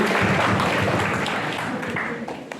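Students in a school audience keep clapping in a full round that gradually thins and fades, with a few individual claps standing out near the end.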